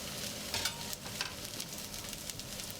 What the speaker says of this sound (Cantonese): 咁你個鑊呢，嗰個油熱咗，你就煎咗你個tempeh先。